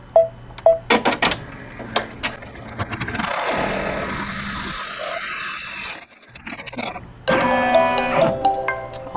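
Embroidery machine blanket-stitching the second leaf of a Calico Garden forget-me-not quilt block, a steady mechanical whir with rapid needle clatter that pauses briefly, then resumes in a busier, rattling run.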